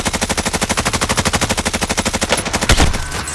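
Rapid automatic gunfire from a Call of Duty Warzone match, a steady loud burst of evenly spaced shots lasting about two and a half seconds, then a heavier blast and fading reverberation.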